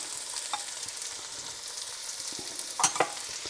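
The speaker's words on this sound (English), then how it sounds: "I'm just going to mix those in." Diced carrots and celery stirred through butter in a pan, a soft steady sizzle with scraping clinks of the spoon near the end, close and alone.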